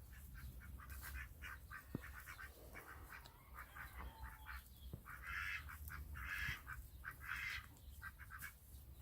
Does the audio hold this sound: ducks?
yes